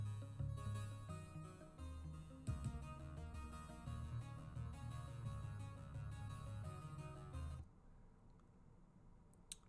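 Dense synth arpeggiator pattern with layered tones and a steady low end, playing continuously for about eight seconds before cutting to near silence.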